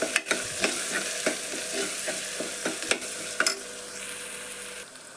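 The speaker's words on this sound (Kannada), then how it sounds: "ಗರಂ ಮಸಾಲ ಮತ್ತು ಧನಿಯಾ ಪೌಡ್ರ್ ಇವನು ಹಾಕೋತೀನಿ ನೋಡ್ರಿ ಎಣ್ಣೆ ಒಳಗೆ ಫ್ರೈ ಆಗ್ತದೆ ಅದು" Garam masala and coriander powder frying in hot oil: a steady close sizzle broken by repeated scraping knocks of a spoon stirring in the pan, with no talking.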